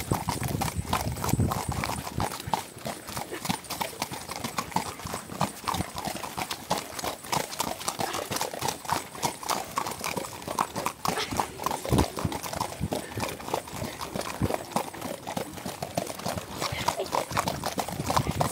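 A horse trots with a steady, rapid clip-clop of hooves heard close by throughout, with people talking over the rhythmic footfalls.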